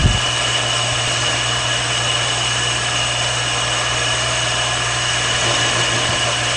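Shopsmith lathe turning a workpiece too fast, a steady droning hum with strong vibration and constant motor whine, close and continuous without speech.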